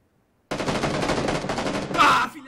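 Rapid automatic gunfire from the video game PUBG Battlegrounds, a dense sustained burst of shots that starts abruptly and runs loud for about two seconds, swelling near the end before cutting off.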